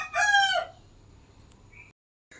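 A domestic rooster lets out one loud, close crow lasting about half a second, followed by quiet background with a faint chirp.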